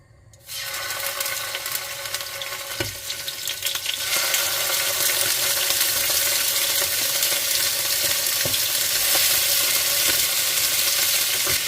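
Chicken pieces hitting a hot pan for browning: a sudden loud, steady crackling sizzle that starts abruptly, then swells a little and carries on evenly close up with no talk over it.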